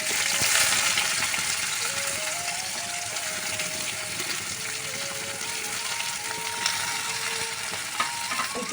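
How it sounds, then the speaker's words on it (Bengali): Cumin seeds and chopped onions sizzle steadily in hot oil, a loud, continuous frying hiss with occasional soft stirring clicks and no voices. "একটু জিরের ফোড়ন দেবো তারপরে কুচনো পেঁয়াজ"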